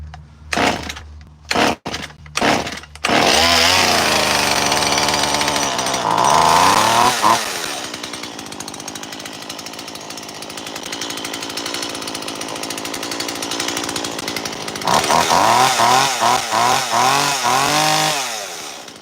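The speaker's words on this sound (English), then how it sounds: "this saw's actually got a Hallsforma carburetor on it with that Amazon motor" A Stihl 170 chainsaw fitted with a Hallsforma carburetor starts after a few pulls, then runs loudly, idling and revving repeatedly, close by with no talking.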